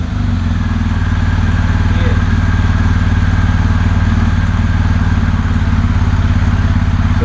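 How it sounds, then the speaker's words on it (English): BMW GS motorcycle engine ticking over at idle right after starting, a loud, close, steady low rumble with an even pulsing exhaust note and light mechanical clatter, no talking. "BMW have done a good job at giving it some sound out of the pipes in the back"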